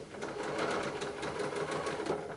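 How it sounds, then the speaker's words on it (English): A sewing machine stitches a curved seam through quilting fabric, a close, steady run of rapid rhythmic needle strokes that lasts a couple of seconds without pause. "you will be able to sew all that curve to the very end"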